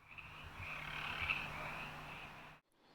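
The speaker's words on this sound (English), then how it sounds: "hear frogs in the water passageways that head down to the beach" A dense chorus of frogs croaking together in water passageways near the beach at Crystal Cove, a continuous buzzing trill at moderate distance, ending suddenly.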